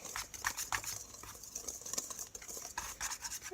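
Small whisk rubbing and scraping through thick keto chocolate chip cookie batter in a bowl, a steady close rasping patter of quick strokes, faint and continuous with no talking.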